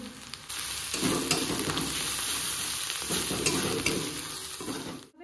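Spices with turmeric and salt sizzle in a frying pan while being stirred, a close, steady frying hiss broken by periodic scraping stirs, with no talking.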